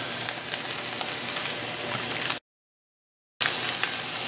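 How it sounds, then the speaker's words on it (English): Wagyu NY strip steak sears in a hot pan with a loud, steady sizzle and crackle that suddenly cuts out for about a second, then returns just as strong. "Let's let that just sear there for a minute."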